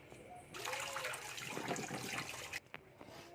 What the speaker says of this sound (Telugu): ఫస్ట్కి ఇలా మునక్కాయలు తీసుకొని వీటిని బాగా వాష్ చేసి పెట్టుకోవాలి